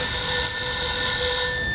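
A telephone rings with an incoming customer call at a service desk during a Taiwanese TV variety show skit, a loud steady electronic ring held close and alone, with no voices.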